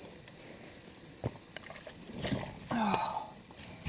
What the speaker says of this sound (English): All those crickets or whatever they are.